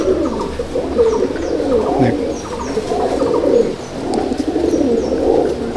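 Old-line pure Madrasi Kalduma pigeons in a Howrah loft coo steadily in overlapping, rolling low calls, fairly close and continuous, with a few faint chirps above.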